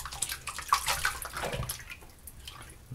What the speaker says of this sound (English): Just rinsing my hands.